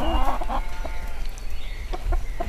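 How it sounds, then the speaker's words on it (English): A broody Light Sussex and English game bantam cross hen clucks in a small broody coop outdoors, giving a few soft, scattered low clucks over steady background noise, with no talk. "my lovely little light Sussex English game bantam cross, who makes a fabulous mother, is in this little broody coop"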